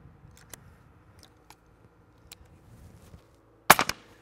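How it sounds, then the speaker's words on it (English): A 300 Blackout rifle fitted with a Liberty Sovereign silencer fires one sharp, muffled shot near the end, followed by a brief echo. Before it the outdoor setting is quiet, with faint clicks and ticks. "There's a little first round pop. It's not my quietest 300 Blackout can"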